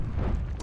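A pool of oil explodes in the video game Skyrim, giving a brief, dense, rumbling blast with heavy low-end roar that fills the whole moment and has no talking over it.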